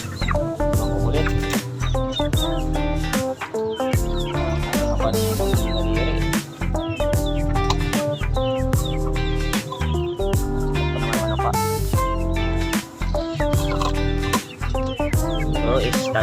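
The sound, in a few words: young chickens, possible stags, clucking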